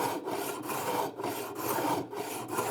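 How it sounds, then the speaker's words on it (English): A wood rasp drawn in long strokes along the corner of a wooden board, producing a coarse, even scraping repeated about five times in steady rhythm, close and alone. "I'm using the length of the rasp to straighten out"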